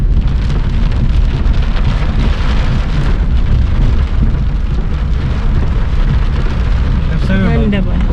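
Heavy monsoon rain pours down steadily in a dense, constant roar during flooding beside an overflowing river, with a voice briefly audible near the end.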